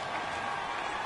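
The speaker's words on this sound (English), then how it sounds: "The crowd's not doing that O-line any favors. Home field advantage is really kicking in, making it very difficult for them to hear the snap count." Stadium crowd in an American football video game, a loud, steady roar of cheering fans filling the whole brief moment without a break.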